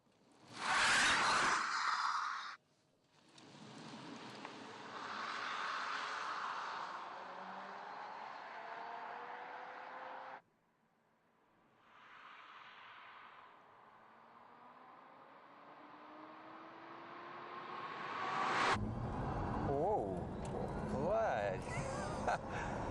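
A Mercedes-Benz SLS AMG E-Cell electric sports car accelerates hard, its motor whine rising smoothly in pitch under wind and road noise inside the cabin, with a voice talking over it.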